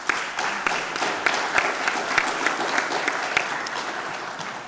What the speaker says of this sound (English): And a round of applause for all of their hard work.